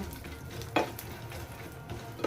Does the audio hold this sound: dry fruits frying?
yes